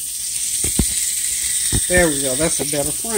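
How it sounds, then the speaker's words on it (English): Onions and green pepper fry in bacon drippings, giving a steady, close sizzling hiss that continues underneath someone speaking briefly. "I'm going to fry those onions up and that green pepper up"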